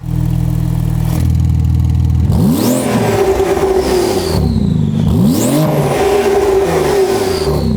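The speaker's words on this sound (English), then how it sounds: "That JCR exhaust sounds really nice." A Porsche fitted with a JCR titanium exhaust, valved race cats and a non-silenced center section revs hard in repeated loud blips, the engine note sweeping up and falling back with sharp, raspy crackle, close and alone.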